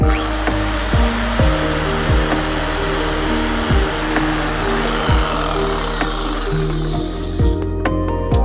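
A power tool cuts through the rubber and metal of a BMW E60 control arm bush. The loud, steady whine and grind carry on throughout with a regular pulsing chatter, and no voices are heard.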